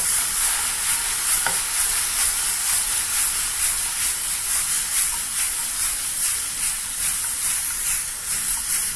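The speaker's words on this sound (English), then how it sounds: "Proceed to toss in the pan very, very briefly." Boneless pork ribs tossed briefly in a hot pan with barbecue sauce and vinegar, giving a loud, steady sizzle and hiss with light stirring scrapes.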